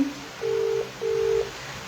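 Two evenly spaced, steady electronic tones from a telephone ring on the line, each about half a second long, clear and alone over a faint background hum.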